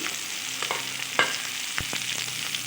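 Fried cauliflower is stirred in a pan for Bengali muri ghonto, giving a quiet continuous sizzle broken by a few sharp spatula scrapes and taps.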